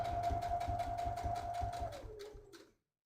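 A sewing machine stitches a drawstring bag seam in a steady rapid run that slows and winds down near the end, close and fairly loud with no voices.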